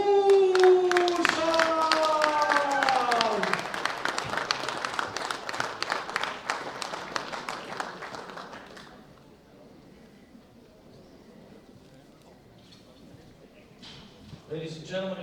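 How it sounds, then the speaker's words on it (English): Applause and crowd noise greet a Russian gold medallist at a junior men's bench press world championship, clapping strong for several seconds under an announcer's voice, then fading to a quiet room before a brief new burst. "A big round of applause for Sergey"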